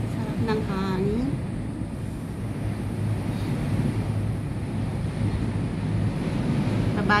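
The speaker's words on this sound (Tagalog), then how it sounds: "Oh, sarap ng hangin." Steady wind rushes and buffets the microphone during a cable car ride from Tung Chung to Ngong Ping in Hong Kong, a constant roar throughout with a brief voice near the start.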